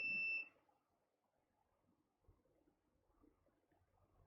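A multimeter gives one short, high-pitched continuity beep lasting about half a second, followed by near silence with faint handling noises.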